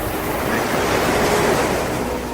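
Ocean waves in Bali wash and break in a constant, close surf roar, with some wind buffeting the microphone and no voices.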